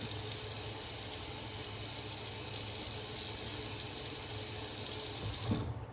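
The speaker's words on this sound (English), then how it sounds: "Forgive me for the sound of the tap" Water runs steadily from a tap in a constant hiss, close and moderately loud, ending with a brief clunk.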